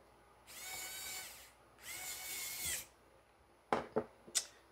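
Small electric screwdriver driving a torque screw back into a MacBook Pro, with two short buzzing bursts of the motor followed by a few sharp clicks and taps, close and alone.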